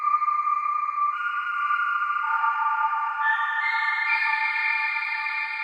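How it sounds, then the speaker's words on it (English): Haunting synth keys from Omnisphere with a long seven-second release, so sustained notes bleed into one another as the chord steps upward, a steady ethereal pad-like tone with no talking. "So now the notes kind of bleed into each other and it gives us that kind of haunting, ethereal quality to the sound."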